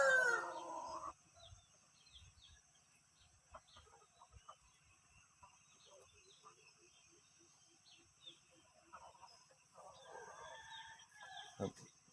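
Young hens kept with a red junglefowl rooster make soft, scattered clucks and chirps at close range, with louder bursts of calling at the start and again near the end.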